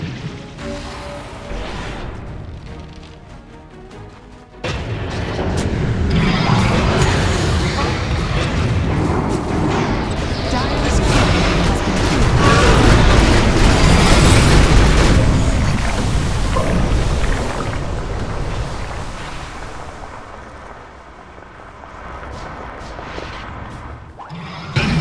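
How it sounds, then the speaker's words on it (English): Tower under attack in Dota 2 during a Sven match, heard as a dense, sustained wash of booming impacts, crashes and battle noise that swells for about fifteen seconds before thinning out, with voices mixed into the clamour. "Radiant's middle tower is under attack."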